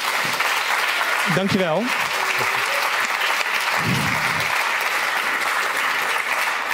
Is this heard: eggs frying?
no